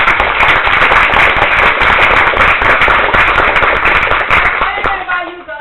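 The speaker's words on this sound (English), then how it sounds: "can we just have a round of applause" An audience claps after a session ends, a dense, sustained burst of sharp clapping held at steady loudness for several seconds before thinning out at the very end.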